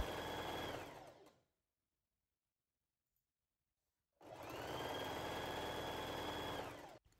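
A sewing machine runs a steady buzzing stitch along a hem on a garment, stopping for a few seconds of silence before starting again for another even, continuous run.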